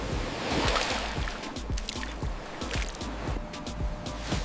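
Atlantic Ocean waves crash against the rocky Galician coast in a loud, churning wash, with repeated splashes and slaps of water against stone close by.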